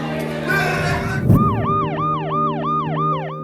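An ambulance siren on a Paris street during a protest, wailing in a steady rising and falling cycle that repeats about six times, loud and close over a background of crowd and traffic noise, after a brief thud.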